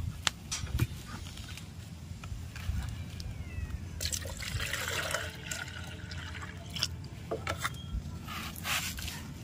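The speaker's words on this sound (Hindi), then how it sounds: "दो लीटर पानी मिला लेना है, और 2 लीटर पानी मिलाने के बाद जो हमारी रेडी कंपोस्ट है" Water poured into liquid homemade compost fertilizer for garden plants, a steady trickling, splashing pour that runs throughout at close range with no talk over it.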